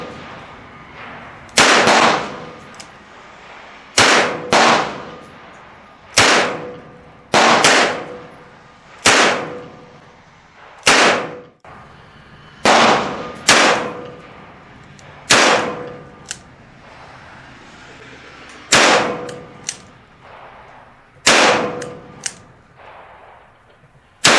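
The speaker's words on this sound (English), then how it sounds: "Smith & Wesson Model 610" Smith & Wesson Model 610 10mm six-round revolver fired outdoors: about fourteen loud, sharp shots in irregular groups with short gaps, each cracking then decaying briefly.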